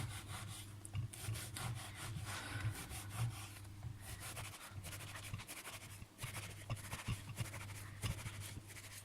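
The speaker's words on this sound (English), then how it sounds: "we're gonna make slices down the bread, not all the way through, but almost to the bottom" Knife sawing down into a loaf of bread for garlic bread, cutting almost to the bottom: repeated close crusty scraping strokes in an uneven back-and-forth rhythm, with a steady low hum underneath.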